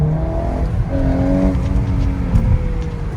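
A Volkswagen Golf 8 R, a torquey four-cylinder fitted with an Akrapovič exhaust, accelerates hard, its engine note climbing steadily in pitch and holding a loud, close drone with no talk over it.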